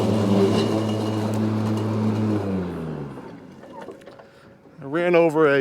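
Blades of a Bad Boy battery-powered lawn mower spin up with a steady harmonic whir, loud and close, before easing off; a voice speaks briefly near the end.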